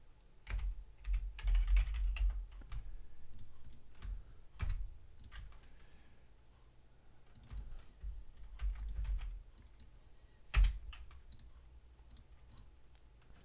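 Quiet bursts of typing on a computer keyboard, irregular clicks and clacks with pauses, one sharper key strike near the end, no voices.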